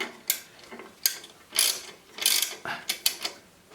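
A 19 mm go-through ratchet spanner works a bolt, its pawl giving short, close bursts of sharp clicking in an uneven rhythm.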